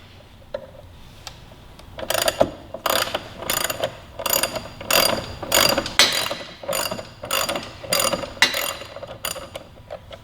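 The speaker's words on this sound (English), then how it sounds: "I've got a 19mm socket and a 17mm wrench." A ratchet socket wrench with a 19mm socket works on the front wheel of a Yamaha R3 sportbike, giving a close, loud run of rhythmic clicking bursts, about a dozen strokes in steady succession.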